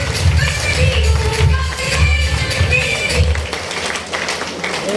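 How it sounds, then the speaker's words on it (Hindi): Audience applause at a business motivational event, a mixed wash of clapping and crowd noise under a steady low hum, with some voices mingling in the background. "बहुत जोरदार तालियां बजाएं सतेंद्र कुमार जी के लिए"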